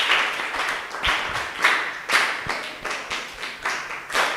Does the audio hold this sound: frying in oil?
no